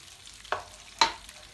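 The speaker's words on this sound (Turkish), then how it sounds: "pirincimi kavuracağım" Rice being toasted in oil in a pot after washing, with two sharp stirring scrapes and sizzles against a quiet background, no talk.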